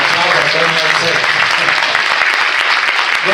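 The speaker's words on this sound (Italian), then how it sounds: "Un applauso a Tony Azzetta." An audience applauds a performer named Tony Azzetta at a Neapolitan song event, steady full clapping filling the room for several seconds, with a voice faintly heard underneath.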